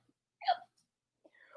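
A voice imitates hiccups, giving one sharp, clear hic followed a moment later by a weaker, drawn-out second one in otherwise quiet surroundings.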